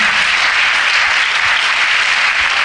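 A church congregation applauds the Lord in a dense, even wash of clapping from many hands that fills the room loudly and without pause.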